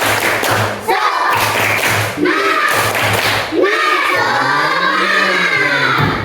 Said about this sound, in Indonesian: Nah, sekarang kita tepuk semangat dulu. Tepuk semangat.